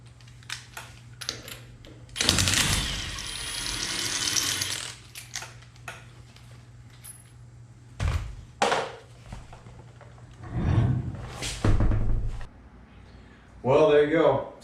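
Wheel studs are being fitted into a Currie 9-inch differential on a 1972 Chevrolet C10, with ratcheting, metallic clicks and a few longer grinding bursts, close up and intermittent. A person talks at points.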